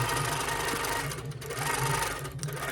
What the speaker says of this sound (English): It's gonna lock all of my threads together, and then it's gonna start quilting row number 2.